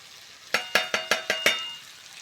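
Salt, turmeric and chili powder tipped in over fried potato and pumpkin for a prawn curry, giving six quick close clinks and rustles in a row, then quiet.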